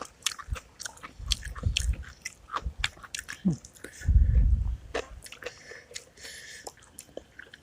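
Close, wet chewing and biting of a Lao-style pounded green banana salad (tam kluay) eaten outdoors on a mountaintop, soft crunches and squishy mouth sounds in bursts, with people talking around it.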